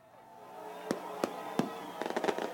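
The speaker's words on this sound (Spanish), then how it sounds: "Fuegos artificiales por el triunfo de Jair Bolsonaro en Brasil." Fireworks burst in the streets of Brazil to celebrate Jair Bolsonaro's presidential election victory: several sharp, spaced bangs, then a quick cluster of pops at moderate distance over a low background murmur.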